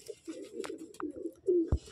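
An Andhra breed pigeon coos close by, a soft run of low throaty coos with a louder, sharper note near the end.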